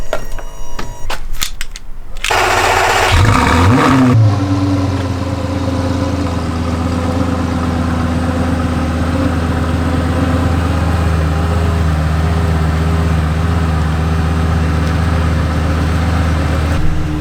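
A Lamborghini starts with a sharp crank and a loud burst of revving, then settles into a deep, steady idle that rumbles close by for many seconds with no talk.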